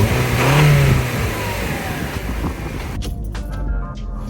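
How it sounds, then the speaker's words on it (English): A Toyota Camry SE revs and accelerates, its engine rising in a smooth surge and then holding a steady drone, close and fairly loud, with some wind noise. "Now we're gonna take a little drive on the Camry just to see how it drives."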